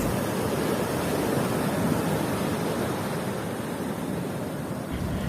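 Sea waves wash steadily at a Kerala beach, a dense, broad roaring surf that stays constant and fairly loud throughout, with some wind buffeting the microphone and no voices.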